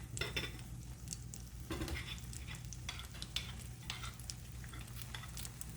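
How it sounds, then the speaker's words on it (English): Ground pork or beef frying in a pan, a steady soft sizzle with occasional scrapes and clinks of a utensil stirring, no voices over it. "But I'm gonna cook the meat first."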